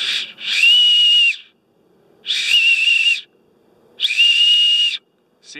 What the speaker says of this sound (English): that's an acorn whistle